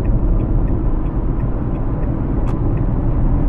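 Dacia Spring electric car at full throttle, 44 horsepower and light: a steady, loud low rumble of road and motor noise fills the whole stretch, with faint ticking over it and no talk.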